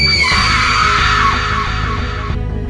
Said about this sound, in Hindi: उसकी चीख फिजा में गूंज गई।